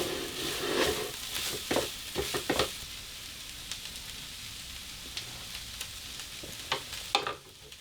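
Carnitas pork and onion fry in a pan with a soft steady sizzle, broken by several sharper crackles and stirring scrapes, moderately close and without speech.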